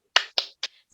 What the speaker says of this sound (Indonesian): Kita akan tepuk semangat bersama-sama.